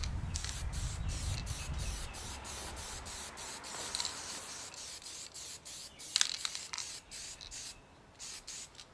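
Spray paint hissing steadily onto a rough, corroded Land Rover steering relay, a continuous broadband spray held for several seconds with brief pauses and small clicks from the can, close and moderately loud, no talking.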